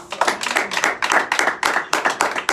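Church congregation clapping hands together in time during a Spanish-language sermon, a loud, rhythmic run of sharp unison claps in quick, regular bursts with the room ringing slightly between them.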